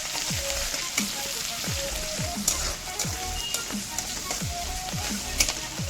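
Grated ginger and chopped green chilli fry with cumin seeds in hot oil, giving a steady close sizzle with intermittent stirring scrapes throughout, no voices.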